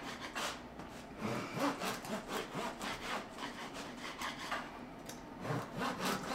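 A knife saws through a baguette, slice after slice, in a rhythmic run of close, crisp crust-rasping strokes of steady loudness and tempo, with no voices.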